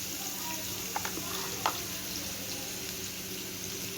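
Potatoes frying in a pan of oil with mustard seeds and curry leaves, a steady close sizzle with a few faint clicks of a utensil against the pan.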